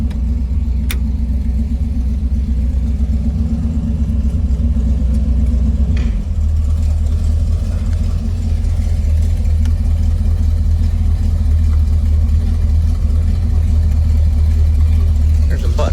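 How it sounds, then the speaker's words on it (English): A 1956 Chevrolet 3100 pickup's 350 crate V8 drones low and steady from inside the cab while driving, with a slight shift in pitch partway through and faint rattles. "I like driving this truck."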